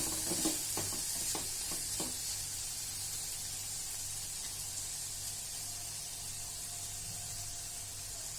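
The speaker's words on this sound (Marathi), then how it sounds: "टमाटर जरा पाच मिनटं शिजू देऊया छान" Tomatoes cooking in a pan for tur usal, a steady soft sizzle and hiss throughout, with a few clinks of a spoon stirring at the start.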